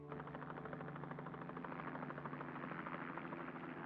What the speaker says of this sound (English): a helicopter carrying the Army's divisional commander flew into their shrinking perimeter